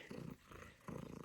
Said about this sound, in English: Sorry if you can hear some purring.